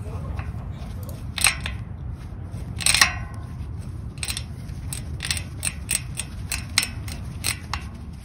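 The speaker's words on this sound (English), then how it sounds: "As you can see, the hub is spinning both ways." Freewheeling bicycle cassette hub spun by hand in both directions, giving a soft, rapid ticking of pawls in several short bursts over a low background rumble.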